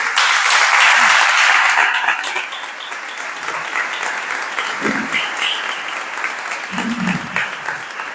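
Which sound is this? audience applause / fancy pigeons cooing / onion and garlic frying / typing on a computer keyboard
audience applause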